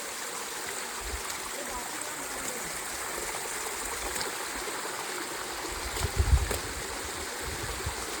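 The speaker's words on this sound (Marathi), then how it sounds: "इथून या पायऱ्यांवरून पाणी खाली चाललंय" Monsoon rainwater streams down the stone steps of Sinhgad Fort near Pune, a steady rushing babble like a small waterfall, with a few louder splashes toward the end.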